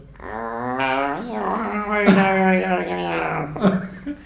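A person vocally imitating a dog, producing drawn-out growls that rise into a couple of sharp barks, loud and close, alone without other talk.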